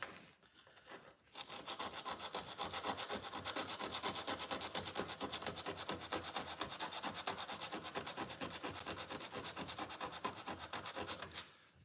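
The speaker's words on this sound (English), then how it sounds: "So this is just some 120 grit." Sandpaper of 120 grit rubbed back and forth in quick, even strokes on a broken-down Ford during repair work, close and continuous after a brief quiet start, with no talk.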